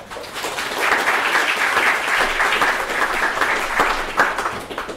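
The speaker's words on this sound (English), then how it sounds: "please give a round of applause for them." Audience applause at a Singapore data science meetup fireside chat with Uber's chief data architect, a dense, steady wash of clapping from a room full of people lasting throughout without pause.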